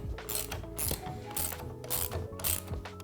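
Ratchet wrench undoing tight axle bolts on a Pure Air electric scooter during a puncture repair, giving repeated bursts of sharp, close clicking with steady rhythm and no talking.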